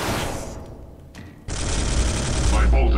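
Heavy automatic gunfire in the Space Hulk video game, a dense burst that breaks off briefly, then resumes loud and continuous.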